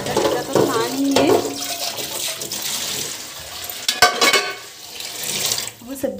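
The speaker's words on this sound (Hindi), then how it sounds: "इस पतीले को धोकर रख दिया, क्योंकि ज़्यादा तो पानी है।" A kitchen tap runs steadily while a cooking pot is washed, the close, splashing water broken by a sharp metallic clatter of the pot about two-thirds of the way through.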